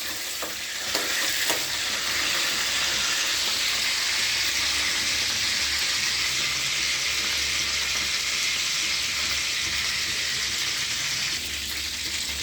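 Green chillies frying in hot oil in a pan, a dense continuous sizzle close by with scraping stirring sounds near the start, steady and loud with no one talking.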